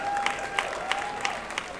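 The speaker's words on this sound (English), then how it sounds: "I'm gonna clap for him" Applause from a crowd at a live comedy performance in Nigeria, a steady patter of clapping with a few sharper claps standing out, a faint steady tone running through underneath.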